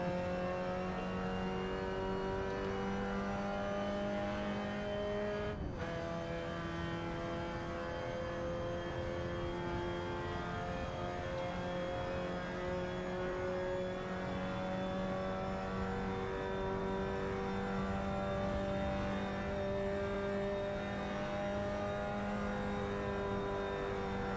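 A GT4 racing car engine in the Automobilista 2 video game drones continuously at high revs at the Nurburgring, its pitch rising steadily, with one brief dip like a gear change early on.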